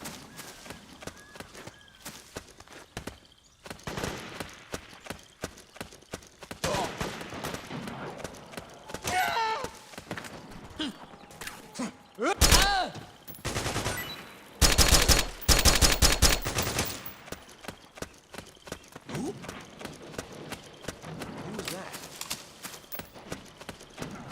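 Suppressing gunfire in Metal Gear Solid 4: Guns of the Patriots, scattered shots throughout with a couple of loud, dense automatic bursts in the middle, over battlefield noise and occasional voices.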